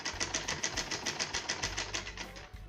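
A sewing machine runs steadily at close range, stitching a fall onto a saree with a fast, even rhythmic chatter and a low motor hum, briefly slowing near the end, with no voices.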